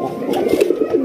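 Raj Golla pigeons on a farm coo in a loud, close, rolling throaty burst, a brief unbroken run of low coos.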